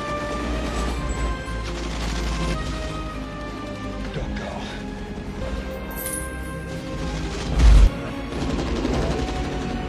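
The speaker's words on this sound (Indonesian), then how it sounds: "Hasil dari baku tembak itu hanya menyisakan 2 orang yang masih hidup, yaitu Stanley dan Mason." Gunfire shootout from the 1996 film The Rock: rapid shots and crashes over a rumbling score, with a heavy impact near the end, under narration.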